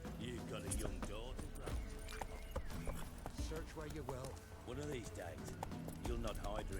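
A horse in The Witcher 3 video game clip-clops at a fast gallop with rapid rhythmic hoofbeats. Talking runs over the hooves throughout.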